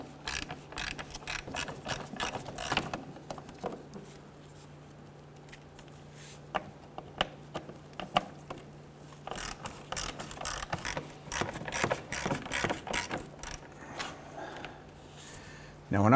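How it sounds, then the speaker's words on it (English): A 1/4-inch socket and ratchet loosen 10mm nuts holding a fog light on a 1999-2004 Jeep Grand Cherokee, with repeated bursts of close, quick ratchet clicking separated by short pauses and a steady low hum underneath. "Just going to use our 1/4-inch socket and ratchet."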